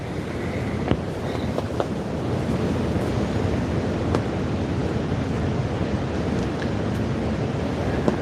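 Strong wind rushes steadily and loudly past a hunting ground blind in sleet and fog, buffeting the microphone with a constant roar and a few faint knocks.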